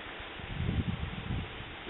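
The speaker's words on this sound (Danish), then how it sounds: "Det blæser rimelig meget lige her." Strong outdoor wind buffets the microphone in low, gusting rushes beside a small pocket camp stove full of glowing embers.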